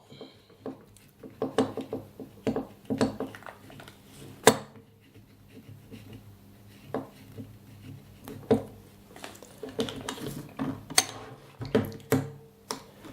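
Action camera being fastened onto a Feiyu Tech WG 3-axis wearable gimbal, a series of close, sharp plastic and metal clicks and taps in irregular bursts, with no voices.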